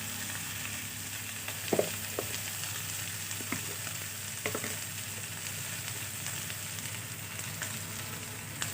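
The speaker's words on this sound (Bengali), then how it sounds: "চালগুলো ভাজা ভাজা হবে" Rice sizzles steadily in hot oil for mung and masoor dal khichuri, a constant close frying hiss with a few scattered light scrapes and clinks, and no voices.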